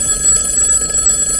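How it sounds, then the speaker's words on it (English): A telephone bell rings steadily and fairly loudly, a continuous shrill ring sustained throughout with no talking. "A ringing phone."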